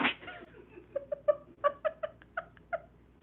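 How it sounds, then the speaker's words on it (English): Cat vocalising in the background of a room, a run of short meows and chirps in an uneven rhythm, fairly faint, with no talking over it. "That's my cat fucking around in the background."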